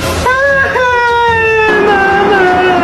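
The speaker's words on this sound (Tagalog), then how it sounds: "Bakit umiyak yung baby ko, ha?" A loud, high wailing cry with sustained quavering tones, like a young child sobbing, continuing steadily for a few seconds.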